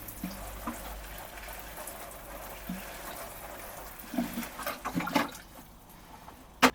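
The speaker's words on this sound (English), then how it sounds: "I'm going to water this now because apparently it is better to water them beforehand" Water is poured gently over seed trays of flower seeds, making a soft continuous splashing trickle at close range, quiet and steady, with a few louder spatters near the end.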